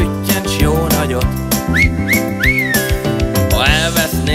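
Melodic whistling in a Hungarian song, with short rising whistled phrases over a steady rhythmic musical backing.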